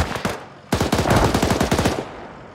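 An M240 machine gun in the ARMA 3 video game fires two loud bursts of rapid shots, a short burst followed by a longer sustained one that trails off into echo.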